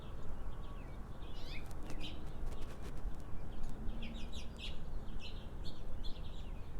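Birds calling outdoors, scattered chirps and short tweets in bursts over a steady broadband background noise, moderately near.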